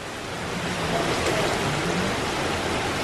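Wind-driven slanted rain from Hurricane Debby, a dense, steady hiss of heavy rainfall close by, swelling slightly in loudness throughout.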